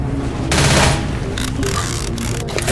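Machine gun fire in a zombie shooter video game, loud rapid bursts of automatic shots in a dense, sustained clatter with brief pauses.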